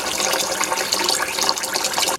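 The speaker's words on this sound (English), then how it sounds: "You wash it 2 or 3 times and then you throw the water out." Rinse water from washed rice is poured out in one steady, close splash that lasts about two seconds.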